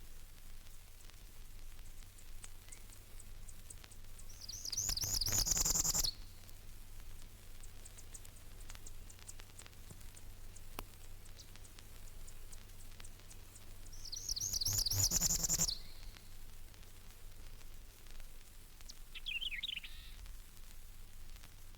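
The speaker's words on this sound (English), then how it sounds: "The Parula warbler represents the many warblers that migrate through the sanctuary and the few that stay here." Parula warbler singing in a garden bird sanctuary: two rising buzzy trills, each about a second long, clearly heard ten seconds apart over steady faint background hiss, with a brief fainter call near the end.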